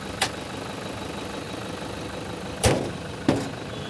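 A Toyota diesel car idles in a low, steady rumble after being restarted, broken by three sharp knocks or thuds, one early and two close together near the end.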